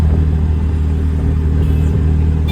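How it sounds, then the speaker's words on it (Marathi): Auto rickshaw engine running steadily near a ghat road by Khopoli, a constant low rumbling drone with no breaks and no talk. "डायरेक्ट रिक्षा चालत आहे आता"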